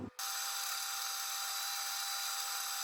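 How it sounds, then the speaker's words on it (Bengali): An electric blender whirs continuously as it blends chopped almonds with about a cup of milk, a loud, even, high-pitched motor whine that starts abruptly after a brief moment of quiet. "এবার এগুলো ব্লেন্ড করে নেব।"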